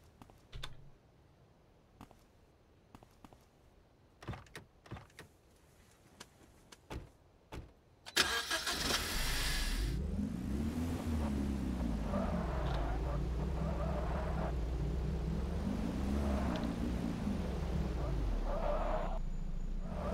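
A police patrol car in Autobahn Police Simulator 2 starts up after several keyboard clicks, then drives with a steady engine drone whose pitch rises and falls as it accelerates and shifts, loud and continuous, with a voice talking over it.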